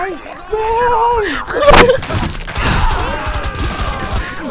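Gunfire in the tactical shooter SWAT 4 crackles in sharp bursts and heavy booming shots, mixed with game noise while players talk excitedly over it.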